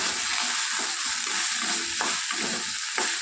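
Green peas and carrot pieces sizzle in a pan while a spoon stirs them, a constant close frying hiss broken by regular scraping strokes.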